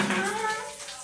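Water splashes and pours continuously in a brief burst as someone is bathed by having their head washed, the rush fading slightly toward the end.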